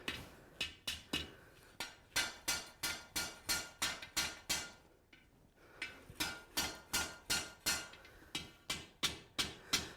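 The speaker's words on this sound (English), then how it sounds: "I'm going to feed that piece of metal towards my hammer" Rhythmic power hammer blows ring out on hot metal on an anvil while forging a shepherd's hook, a steady series of sharp metallic strikes with a brief pause midway before the pounding resumes.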